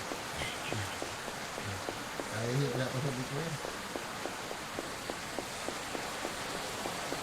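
Steady rain in the video game Sakura School Simulator falls as a soft constant patter with faint regular ticks, while a person talks over it.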